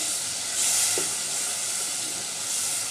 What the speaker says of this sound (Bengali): এই তো মরিচ কষানো হয়ে গেছে